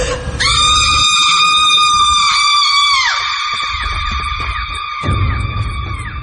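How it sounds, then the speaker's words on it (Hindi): A loud, sustained female scream in a horror story, a single piercing cry lasting several seconds with a rumble of background noise beneath it, alone without talk. "एक जोरदार चीख की आवाज आई"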